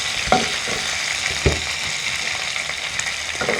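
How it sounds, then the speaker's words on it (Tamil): Fennel, mustard seeds and pepper sautéing in hot oil for chicken biryani, a steady close sizzle with a few sharp spatula scrapes against the pan. "நல்லா வதக்கி எடுக்கிறோம்."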